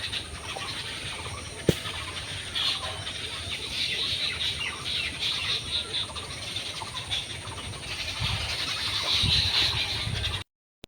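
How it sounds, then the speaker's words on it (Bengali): Birds chirp outdoors on a breezy day, faint scattered calls over a steady wash of wind and ambient noise, with one sharp click early on. "কটা পাখির কিচিমিচির হচ্ছে, তোমরা শোনো"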